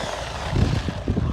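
A cheap 1:14-scale Axguter brushless RC truck runs at full throttle outdoors, its electric motor giving a steady, fairly loud buzzing whine with small surges, heard alone with no talking.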